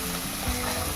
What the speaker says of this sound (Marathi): आता आपण थोडी कोथिंबीर टाकू, एकदा परतून घेऊ